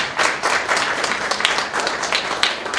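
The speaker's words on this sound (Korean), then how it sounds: "박수 보내주시죠." Audience applause at an international symposium on establishing severe trauma centres, a steady dense wash of clapping from a large hall crowd sustained throughout.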